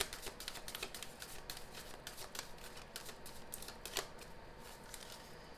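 Quick crisp tarot card shuffling, a steady flurry of papery riffles and snaps close up, with a few sharper clicks, no talking.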